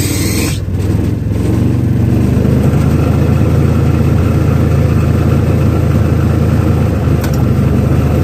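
Lawn mower engine held at full throttle, a loud steady droning roar that carries on without pause, with a brief dip near the start.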